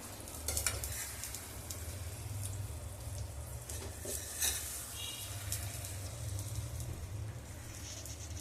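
Eggs fry in a pan of spicy gravy, a constant close sizzle with a low bubbling hum. Scattered clicks and scrapes come as the eggs are turned over and over, with no talking.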